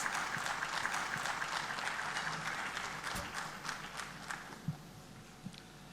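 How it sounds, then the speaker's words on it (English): Audience applause at the Ideas of India summit greets the speaker for the inaugural address, a broad, sustained clatter of many hands that gradually thins out, with a few scattered footsteps near the end. "a big round of applause for AVINAsh Pandey as he delivers the inaugural address"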